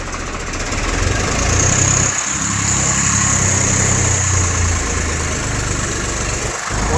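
Close, loud Swaraj 855 tractor engine idling and running in gear with the brakes pressed, a steady rumbling drone that swells slightly early on and holds constant, no voices.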